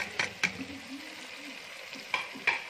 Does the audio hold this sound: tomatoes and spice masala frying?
yes